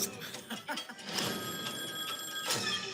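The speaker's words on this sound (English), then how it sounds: "Phone's ringing." A telephone rings on a television singing competition stage, its bright repeating ring rising out of loud studio noise and crowd sound over about three seconds.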